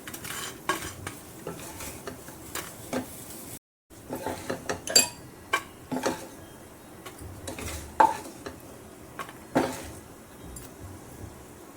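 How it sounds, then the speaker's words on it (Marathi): Roasted dry fruits being stirred in a pan and scooped out, with soft scraping and clinking of a spoon against metal in uneven bursts and a brief gap, light sizzle underneath, no talking. "आता ड्रायफ्रूट छान भाजलेले आहेत ते मी आता याच्यातच काढून घेते"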